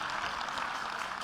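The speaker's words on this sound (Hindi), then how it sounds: "जोरदार तालियां बजा करके।" Steady, dense applause from a political rally crowd, a continuous wash of clapping at moderate distance with no voices over it.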